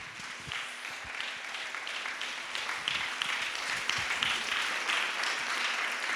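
Church congregation at a fasting prayer gathering applauds to welcome Pastor Anugrah Kandulna, sustained clapping that grows fuller and louder over several seconds, heard from within the room.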